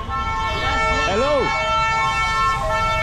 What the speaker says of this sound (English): Now is a step back out amidst the horns and the sirens to try and find a rickshaw